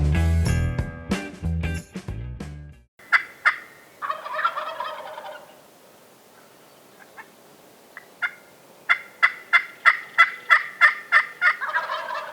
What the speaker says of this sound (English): Turkeys were gobbling like crazy.